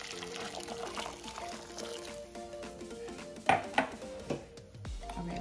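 Just-boiled water poured over 100 grams of dry soya nuggets in a bowl to soften them, a steady liquid pour with a few light clinks of a dish or spoon in a quiet kitchen.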